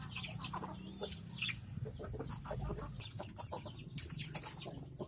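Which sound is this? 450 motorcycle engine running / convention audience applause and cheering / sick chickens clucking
sick chickens clucking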